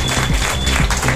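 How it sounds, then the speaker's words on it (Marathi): A crowd claps in a dense, steady patter of applause at a public ceremony, a brief burst of many hands heard close and alone. "सुरुवातीलाच आपण जोरदार टाळ्या वाजवूयात"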